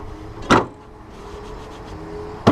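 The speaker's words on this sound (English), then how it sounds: "To close the hood, you just push up, flip that right there" The hood of a Massey Ferguson 1526 Hydro compact tractor shuts with a sharp close thud, then a quiet stretch and a second brief knock at the end.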